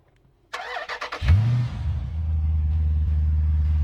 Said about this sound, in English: you can remote start the car